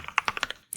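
Quick burst of about eight crisp keystrokes on a computer keyboard as a web address is typed into a browser, close and fairly soft, ending after a short pause.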